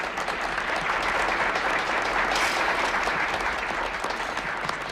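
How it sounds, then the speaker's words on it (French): A large audience applauds at length, making a dense, steady wash of clapping with no pauses throughout. "ces applaudissements ne s'adressent qu'à toi."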